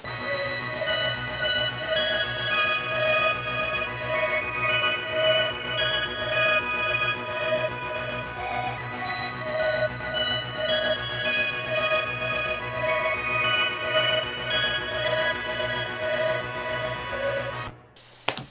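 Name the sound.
synthesizer part playing alone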